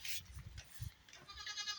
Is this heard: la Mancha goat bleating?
yes